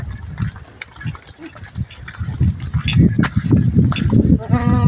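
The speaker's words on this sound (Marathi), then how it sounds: "शेळी पालन काठेवाडी शिरोई बिट्टल, ही काठेवाडी आहे, शिरोई आहे।" Kathiawadi and Sirohi goats on a small home goat farm, with animal calls and bleat-like sounds scattered through the clip under and around loud talking, growing busier toward the end.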